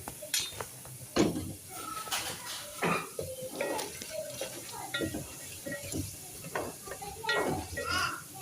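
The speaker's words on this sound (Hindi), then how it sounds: "यहाँ पे सारा मैंने मसाला भून के इसमें सारे सूखे मसाले डाल के अब थोड़ा सा इसमें दही डाला" Spiced masala frying in a pan with yogurt just added, stirred with a spoon that scrapes and clinks against the pan over a steady sizzle; close and moderately loud, with intermittent faint voices in the background.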